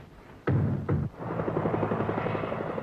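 A helicopter flies over Buckingham Palace on a summer morning, loud and close, with two heavy thudding bursts followed by a steady rapid rotor chop.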